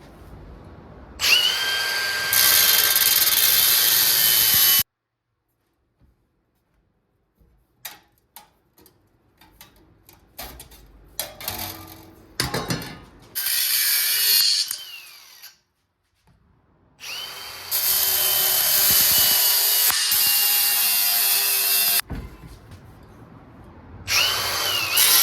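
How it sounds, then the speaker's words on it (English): A cutoff wheel grinds through the floor pans of a 1978 Ford, loud high-pitched whining bursts near the start and middle, separated by quiet stretches of scattered clanks and handling noises. "Let's grab the cutoff wheel."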